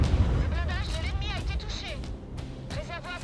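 Booming artillery-style gunfire from World of Tanks, from Bat.-Châtillon 155 58 and G.W. Panther self-propelled guns, sharp bursts layered with whistling effects, loud and dense, with no talk over it.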